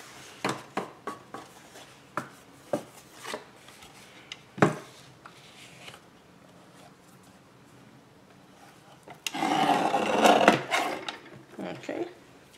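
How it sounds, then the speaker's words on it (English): Paper collage ephemera with crinkly top edges being trimmed off: a run of crisp, close snipping clicks, then a short burst of louder paper rustling and handling noise. "Gonna trim the tops off these. They have the crinkly edge"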